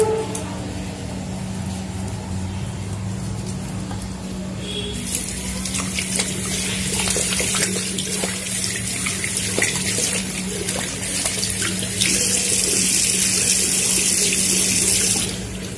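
Steady running water from a tap while hands are washed with homemade liquid hand wash at a sink, constant splashing flow with a rising brighter hiss toward the end.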